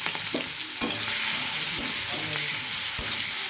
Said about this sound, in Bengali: এখানে আমি উচ্ছে আর বিনসটা আলাদা করে নিয়েছি, এবার এটা দিয়ে দেবো, দিয়ে ভেজে নেব।